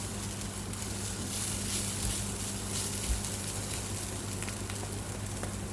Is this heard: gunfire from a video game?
no